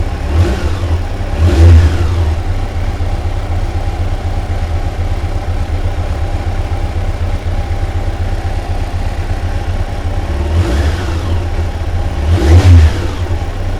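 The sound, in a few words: Yamaha FJR 1300 motorcycle engine revving with throttle blip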